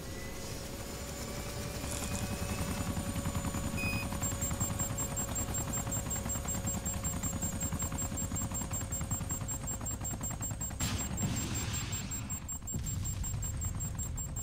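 Rapid automatic gunfire from the video game DayZ Epoch, a steady dense rattle of repeated shots running nearly throughout at a loud, even level, with a helicopter-like drone underneath and a brief burst of noise near the end.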